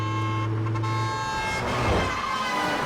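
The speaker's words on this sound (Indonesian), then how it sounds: "Sebuah mobil melaju kencang dan hampir menabraknya." A car speeds along a road and nearly strikes a young woman walking by the roadside; a loud steady vehicle rush with a rising then falling whoosh as it passes close, preceded by a low droning tone.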